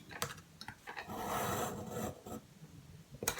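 Scissors or a blade cut card stock for a pop-up slider card, giving short scraping and rasping strokes, close and faint, in a few bursts with quiet gaps and no voices.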